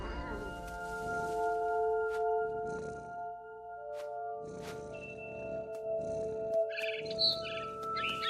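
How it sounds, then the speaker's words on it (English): Barn swallow chirps in the video game What Remains of Edith Finch, short high bird calls scattered over steady musical tones, growing brighter and busier toward the end. "Then I heard chirping outside my window. It was a barn swallow going back to her nest."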